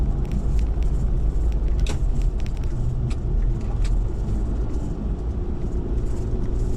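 A car climbing a steep bypass road in Calauag, Quezon in low gear, giving a steady close engine rumble and road noise with a few faint clicks and rattles.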